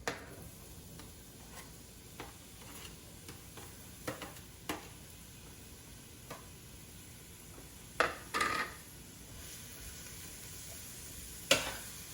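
Chopped onions frying in a pan for a low-carb Mexican noodle soup, a faint steady sizzle with scattered soft ticks and a few utensil clinks.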